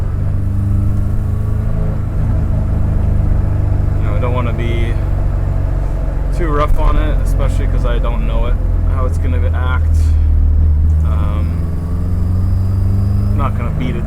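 A K-swapped BMW E30 cruises in third gear with a loud flywheel, a steady low engine drone and road rumble from inside the cabin while the driver talks over it.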